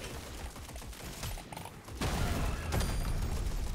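Rapid, dense gunfire from a high fire-rate weapon in the video game Deep Rock Galactic Survivor crackles continuously and grows louder partway through, layered with game mechanical noises.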